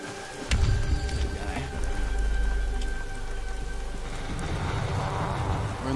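Steady rain in Ghost Recon Future Soldier pattering and splashing on surfaces, dense and continuous, with a low rumble underneath and no voices.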